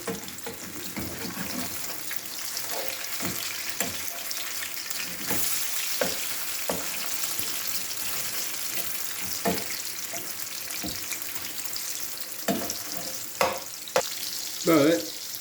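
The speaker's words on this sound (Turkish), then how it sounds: "nar gibi kızarmalarını istiyorum hepsinin" Green tomato slices frying in a pan sizzle steadily while being turned, with soft clinks and scraping of the utensil and a few louder knocks near the end.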